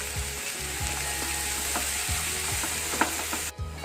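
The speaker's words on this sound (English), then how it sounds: "We need to get this onion nice and brown" Onions sizzle steadily in a pan with a teaspoon of salt, with a constant crackling fry and repeated scraping stirs of a utensil against the metal, close and without voices.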